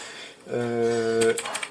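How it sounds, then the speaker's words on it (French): A voice speaks, then a burst of quick clicks follows on a Logitech G Pro X TKL Lightspeed wireless mechanical gaming keyboard, the key presses close and brief near the end. "Du coup, c'est un clavier mécanique, ça se voit bien."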